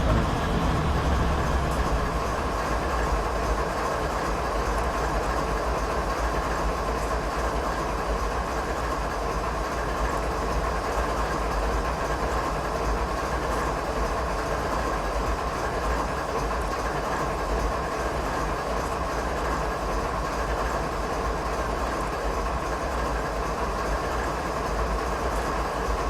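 A train in the Train Simulator 2016 game rolls along a Canadian mountain pass route, its engine drone and wheel rumble steady and continuous throughout at a moderate level.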